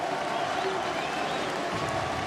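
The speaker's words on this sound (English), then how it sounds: "You just got to appreciate that crowd. I can hear it through the floorboards above me." Large crowd cheering and applauding at an Overwatch World Cup 2018 esports event in Paris, a steady dense roar with no breaks, heard muffled as if through a floor.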